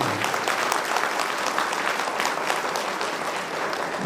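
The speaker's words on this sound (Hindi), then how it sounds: "जोरदार तालियां होनी चाहिए।" Audience applause at a Safe Shop event in Samastipur, Bihar: steady, dense clapping from a crowd holding at an even level throughout.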